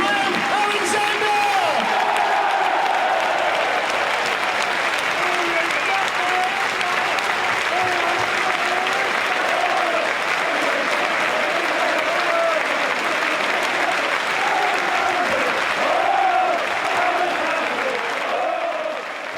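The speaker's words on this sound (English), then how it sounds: "please make some noise for Graham Alexander" Crowd at Turf Moor applauding footballer Graham Alexander on his 1,000th senior career appearance: sustained loud clapping and cheering from a large stadium crowd, steady for the whole stretch with some voices mixed in.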